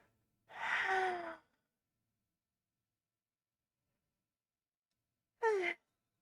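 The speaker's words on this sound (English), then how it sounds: "Interrupting me once again is a loud and sudden yawn." A video game character lets out a loud, drawn-out yawn lasting about a second with a falling voiced tone, followed after a long silence by a short, sharp breathy vocal burst.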